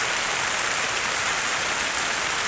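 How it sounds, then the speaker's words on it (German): Heavy rain pours down steadily on a campsite, a dense, constant hiss of drops close by with no let-up. "Viel Regen."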